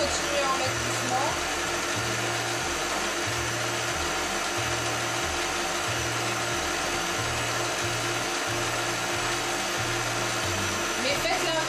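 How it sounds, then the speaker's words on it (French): Stand mixer running at its lowest speed through spiced gingerbread dough, a steady motor whine with a regular rhythmic thumping as the beater turns, loud and close throughout. "mon robot est à vitesse minimale et il mélange"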